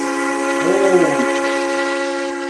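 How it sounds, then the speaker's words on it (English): A steam train whistle sounds at Train Mountain, a long sustained tonal blast with a brief rising and falling wobble in the middle, loud and steady throughout. "till we can hear that whistle"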